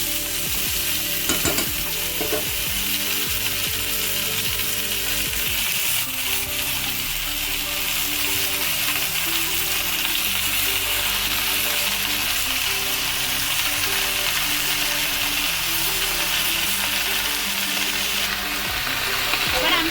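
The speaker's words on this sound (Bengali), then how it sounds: "শাকগুলোকে একটু ভালোভাবে এর সাথে ছেড়ে ভেজে নিতে হবে" Ivy gourd greens sizzle in hot oil with eggplant already fried red in the pan, a steady loud frying hiss with stirring scrapes throughout and no voices.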